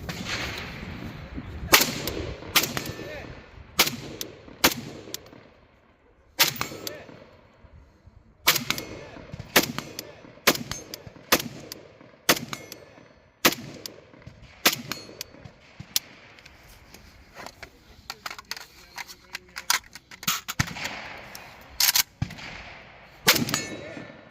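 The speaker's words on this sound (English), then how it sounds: "Shoot the targets on your right." Beryl 556 rifle shots ring off steel targets at an outdoor range, a long run of sharp metallic clangs and pings, loud and close, some in quick pairs and others spaced apart, with short quiet gaps between volleys.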